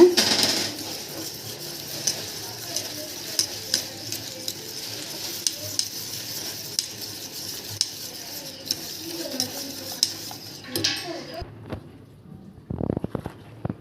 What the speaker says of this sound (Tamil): இந்த பதத்தில் வரணும் கட்டிப்படாமல் நல்லா கிண்டி எடுத்துக்கோங்க